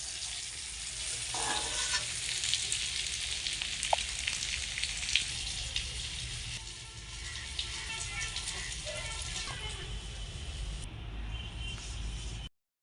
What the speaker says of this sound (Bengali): আলু ভেজে নিয়েছি, এখন নামিয়ে নেব